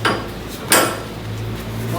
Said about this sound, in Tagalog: Balik mo yung martilyo?